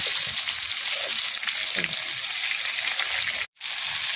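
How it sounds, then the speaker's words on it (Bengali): Onions sizzle and fry in hot oil as the base for a chicken curry, a steady close crackling hiss that runs throughout and cuts out briefly near the end. "এই যে গোস্তের জন্য পেঁয়াজ ভেজে নিলাম"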